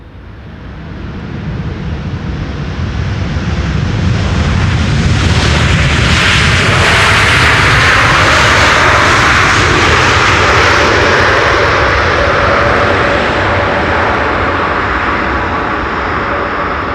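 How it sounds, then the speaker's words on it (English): A Boeing 747-8 jet airliner landing at Schiphol Airport roars in close and loud, a broad engine rumble swelling over several seconds, peaking as it passes, then holding a sustained heavy roar. "It's a 7478. Those do have the potential to get loud."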